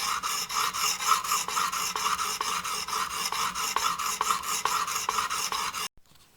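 Chisel face being flattened on a coarse sharpening stone, a close, steady rhythmic rasping of quick back-and-forth strokes that stops abruptly near the end.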